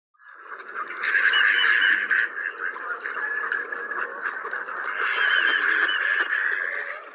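A male mallard drake gives courtship whistles, a continuous run of high, squeaky calls lasting several seconds, fairly close and loud, with no talk over it.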